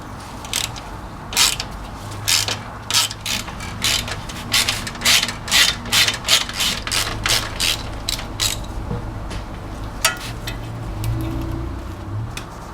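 A ratchet wrench backs out the AC condenser bolts on a 1994 VW Jetta MK3, giving rapid bursts of sharp metallic clicking up close, with short pauses between strokes.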